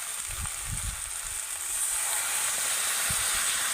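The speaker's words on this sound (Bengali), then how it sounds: "এবার আমি শুক্তোর মধ্যে জল দিয়ে দেব" Water goes into a pan of shukto vegetables, a Bengali mixed-vegetable dish, and sets off a steady sizzling hiss that grows a little louder, with a few soft low bumps from the pan near the start.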